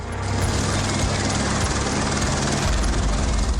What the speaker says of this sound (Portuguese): O helicóptero da Polícia Militar foi acionado.